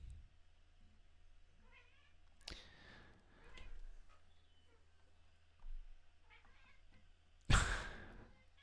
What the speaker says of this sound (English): our cat is meowing at the birds